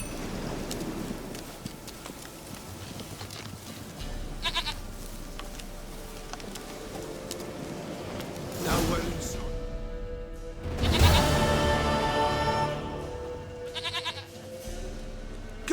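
A goat bleats several times in The Witcher 3, in bursts spread across the stretch, set against a busy game soundscape with a low ambient bed.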